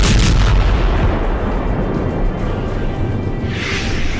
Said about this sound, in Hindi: खार्किव के रोजा गांव पर रूस ने इस्कंदर मिसाइल से हमला किया है।